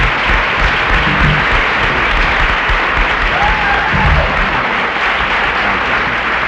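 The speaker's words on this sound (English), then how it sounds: "a round of applause for Professor Rice." An audience at a 1973 lawyers panel breaks into loud, sustained applause, many hands clapping in a dense even roar that fills the room without a break.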